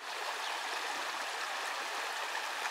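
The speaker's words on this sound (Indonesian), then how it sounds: "Ini sebelah kanan sungai kecil." A small stream flows steadily nearby on a hiking trail to the Bad Urach waterfall, a soft continuous rushing and bubbling of water with no voices.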